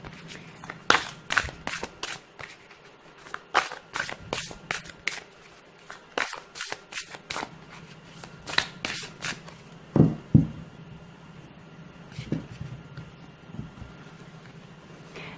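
A deck of shamanic oracle cards gets shuffled poker-style, with repeated crisp riffling bursts and soft slapping of the cards, close and clear, pausing and resuming in uneven bursts.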